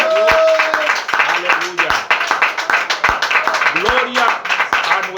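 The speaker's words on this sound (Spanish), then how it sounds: "Demos un aplauso al Señor en esta mañana." Church congregation clapping along in steady rhythm during a Spanish-language worship service, loud and close, with a voice singing and speaking over the claps.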